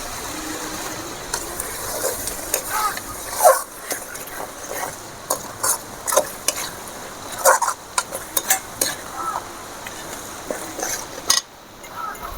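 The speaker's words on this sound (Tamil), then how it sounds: "இப்போ அரைச்சி வச்சு தேங்காய் அந்த பேஸ்ட்டையும் அதில் ஊற்றிக்கலாம்" Ground coconut paste goes into a pot of chicken kurma and gets stirred, with scattered clinks and scrapes of a spoon against the vessel over low background noise.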